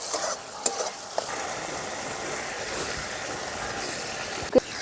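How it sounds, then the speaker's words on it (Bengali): Spice paste with turmeric being stirred and fried in oil for a Bengali fish curry, a continuous low sizzle broken by a few sharp clinks of the utensil against the pan. "এখন যতক্ষণ না মশলা থেকে তেল ছেড়ে দিচ্ছে ততক্ষণ কষাতে থাকবো এই মশলাটা"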